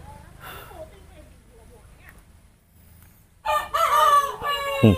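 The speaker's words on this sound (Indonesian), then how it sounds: "Ini ayam tuh. Tuh ayam tuh. Ayam." A rooster crows loudly and close in the final second and a half, a harsh drawn-out call after quieter clucking and background rustle.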